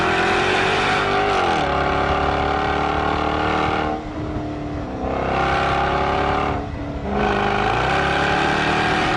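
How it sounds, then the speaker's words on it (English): A 2013 Jaguar F-Type convertible with a V8 revs hard and loud, the engine note climbing through repeated surges with brief dips between gear changes, close and uninterrupted by talk. "I then got in the V8 and I need this noise in my life."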